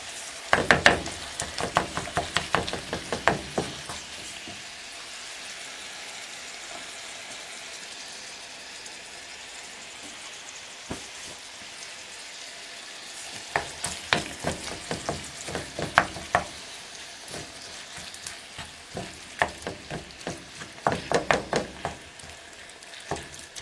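Minced meat sizzles and crackles in a frying pan, with bursts of popping spatter that come and go against a steady hiss, close and moderately loud, with no talking.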